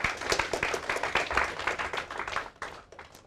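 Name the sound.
class applauding a student presentation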